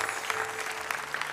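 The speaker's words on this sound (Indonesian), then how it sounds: "tepuk tangan." A short burst of applause, a soft, dense patter of clapping hands heard at low volume for just over a second.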